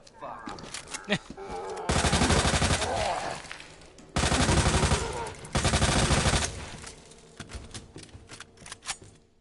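Gunfire in the video game Resident Evil 2 Remake: loud, close bursts of rapid automatic shots in three sustained volleys, separated by lighter clicks and single shots.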